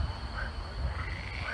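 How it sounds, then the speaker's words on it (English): A dense chorus of frogs croaks loudly and continuously near a site in Normandy, France, with overlapping calls and no talk. "there's a bunch of frogs"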